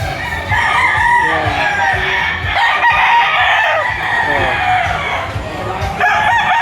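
Chickens at a Filipino poultry market cluck busily while roosters crow repeatedly, several birds close together in a loud, continuous flock chorus.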